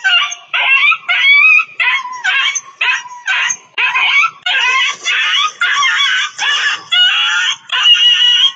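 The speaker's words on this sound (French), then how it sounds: "Un chien." A dog whimpers and yips in a rapid series of short, high, whining bursts, each separated by a brief gap, close and loud with nothing else behind it.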